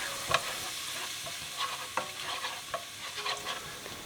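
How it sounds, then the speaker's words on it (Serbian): Finely chopped onion frying in hot oil in a pan, with steady sizzling and repeated stirring scrapes that come through as soft, close clicks at irregular intervals. "izdinstajte sitno seckanu glavicu crnog luka"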